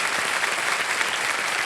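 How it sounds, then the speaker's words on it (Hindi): A television quiz show studio audience claps loudly and continuously, a dense, even burst of applause filling the whole short stretch without any voices over it. "एक बार फिर ताली बज जाए इन लोगों के लिए।"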